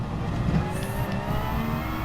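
Race car in a sim racing game running off the track into gravel, a steady loud engine drone with a faint high whine, continuous and close for about two seconds.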